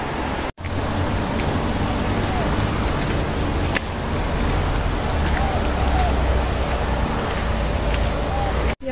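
Steady rain falls at Tai Tam Reservoir in Hong Kong, a dense, continuous hiss with a low rumble beneath it that runs without a break through the whole stretch apart from one short dip near the start.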